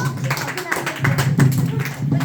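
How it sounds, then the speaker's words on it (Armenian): Applause from an audience welcoming a participant coming up to play a game, a busy burst of overlapping claps continuing steadily throughout, with talk mixed in underneath. "ծափերով դիմավորենք մասնակցին"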